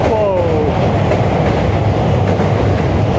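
A Yamanote line train passing overhead in Ginza, Tokyo, gives a loud, continuous rumble and rattle. A brief metallic squeal sounds near the start.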